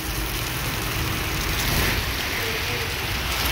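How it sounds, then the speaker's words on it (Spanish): Steady rain hisses down heavily on a roadside near Cuetzalan, Puebla, a dense wash of drops on surfaces with a low rumble underneath, continuous throughout. "Nos agarró la lluvia"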